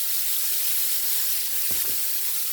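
Vegetables sizzling and steaming in a frying pan with olive oil, a steady close hiss filling the whole stretch, with a couple of brief clatters near the end.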